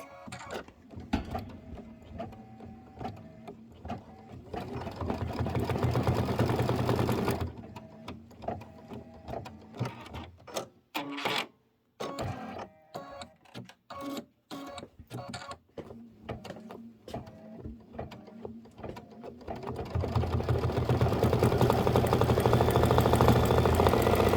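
A sewing machine stitches in steady mechanical bursts, a long continuous run, then a series of short choppy stops and starts, then another sustained run, loud and close with no talk.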